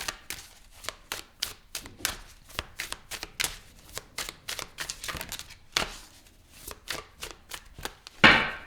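A deck of tarot cards is shuffled by hand in a quiet room, giving a long run of crisp riffling and flicking bursts, some quick and some spaced apart, ending with a louder rustle.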